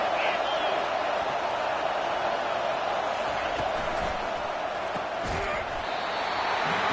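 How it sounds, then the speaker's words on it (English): Football stadium crowd roaring on a third down at a Texas A&M game, a loud, steady wall of cheering and yelling that holds for the whole stretch with a few sharp bangs in the mix. "3rd down, and this crowd will blow out a vocal cord to help this defense."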